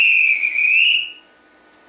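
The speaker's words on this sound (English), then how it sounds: "the referee blow his or her whistle" A referee's whistle blown once during basketball play, a loud, steady shrill blast lasting about a second before cutting off into quiet.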